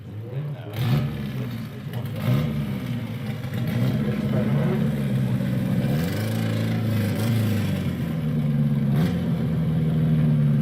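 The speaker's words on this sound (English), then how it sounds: "Doesn't sound like a 4-cylinder" A car engine revving, mid-pitched and droning with rising and falling pulls throughout, heard at moderate distance under a steady background.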